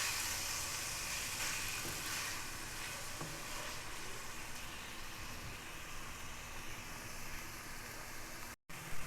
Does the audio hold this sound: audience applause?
no